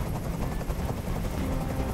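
A helicopter hovering in the video game Detroit: Become Human, a dense, continuous rotor thrum with rough pulsing texture, steady and fairly loud with no speech over it.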